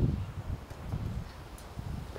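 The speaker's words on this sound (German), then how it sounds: "Es ist so windig" Strong gusting wind buffets an outdoor skatepark construction site, a rough low rumble of wind noise pushing against the microphone in uneven surges, loudest at the start, with no talk.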